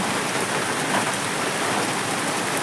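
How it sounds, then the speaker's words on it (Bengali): Steady rain during a low-pressure spell falls continuously, a dense even hiss of drops on surfaces, moderately loud with no breaks and no voices. "দেখো বৃষ্টি হয়ে যাচ্ছে"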